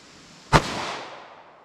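A single sharp pistol shot from a .380 ACP firing hot Buffalo Bore +P ammunition, a loud crack with a short ringing decay outdoors.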